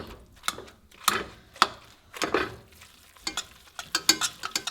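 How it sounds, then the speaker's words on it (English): Mashing food ingredients together with a splash of milk, a series of irregular wet squelching and scraping strokes, close and fairly quiet, with no speech. "And just start mashing together."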